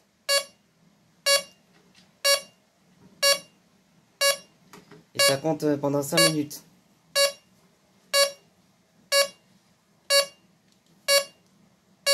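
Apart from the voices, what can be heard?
Nugelec fire alarm signalling panel beeping during timer countdown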